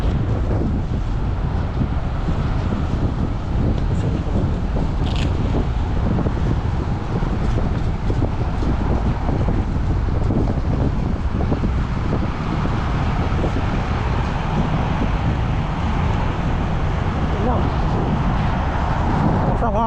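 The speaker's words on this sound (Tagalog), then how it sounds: "balot na balot tayo mga par dahil medyo mahangin" Strong, cold wind in Nova Scotia, Canada, buffets the microphone in a steady, heavy low rumble that persists throughout, with faint voices and movement underneath.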